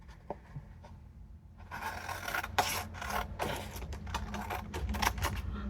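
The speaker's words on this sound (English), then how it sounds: "I'm going to cut off some of it this way." Paper is trimmed for a handmade envelope: a few faint scrapes, then a busy run of close, crisp rasping cuts and rustles.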